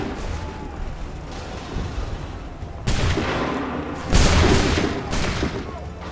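A musket volley rings out in a Revolutionary War battle in Assassin's Creed III, two heavy bursts of massed gunfire crashing over a rumbling battlefield, with distant shouted commands under the din.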